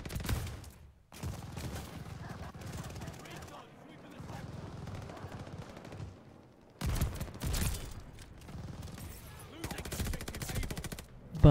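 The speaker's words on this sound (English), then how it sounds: "And now they're spawn killing with shotguns. Dual wheel double barrel shotguns." Double barrel shotgun blasts in a Call of Duty Vanguard multiplayer match, loud bursts of gunfire in several dense runs separated by brief lulls, with muffled voice chat underneath.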